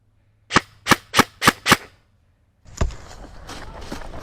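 Airsoft guns fire five sharp, evenly spaced shots in a quick burst during an airsoft game, followed after a short pause by a louder crack and continued noisy outdoor rustle.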